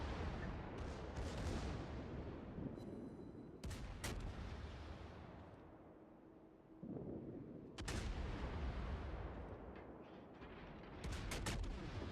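In World of Warships, the Yamato's primary guns fire as a heavy, booming naval artillery roar that stays loud and dense, with sharp cracks of further salvos breaking through every few seconds and no talking.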